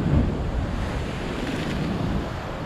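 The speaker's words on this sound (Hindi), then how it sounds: "ये जो लहरें आ रही है, ये देखो ये लहरें" Ocean waves at Nagoa beach in Diu roar as a continuous broadband wash with wind buffeting the microphone, loud and close, no speech.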